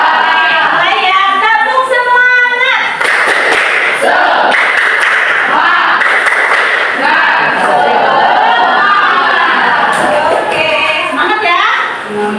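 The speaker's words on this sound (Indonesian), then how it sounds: "Ibu mau minta tepuk semangatnya." A classroom of teenage students performs a rhythmic spirit clapping chant, patterned claps and thuds mixed with shouted group chanting, loud and close with children's voices throughout.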